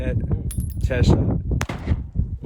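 Glock 17 pistol shots at a desert gun range sound as sharp, loud reports mixed with someone talking over them and outdoor background noise, with one very crisp crack standing out near the middle.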